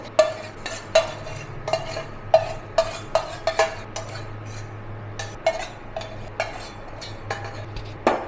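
A metal spoon clinks and scrapes against a pot or bowl in irregular taps while hot fenugreek greens are stirred together with flour, close and clear with no talking.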